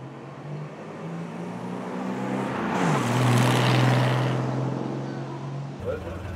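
Classic car engine idling at a hill climb event, a steady low droning hum that swells louder midway and then settles, with outdoor background noise around it.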